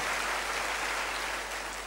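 Applause from an audience at a Parents Day celebration in Patna, a steady even wash of clapping that holds for the whole short stretch at moderate level.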